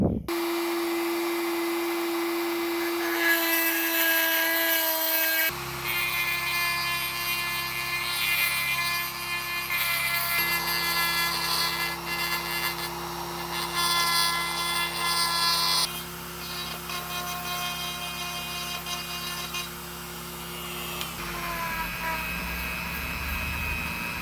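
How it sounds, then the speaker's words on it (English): A Dremel rotary tool ports the cylinder head of a Predator 212 go-kart engine, giving a close, continuous high-pitched whine whose pitch steps up and down as it grinds the metal, with no talk. "I'm going to grab the Dremel and I'll do that and I'll record it and you guys can watch"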